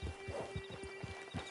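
Hooves of a horse in the Red Dead Redemption 2 video game clop along in a steady, regular rhythm, close and moderately loud over a faint background hum, with no voices.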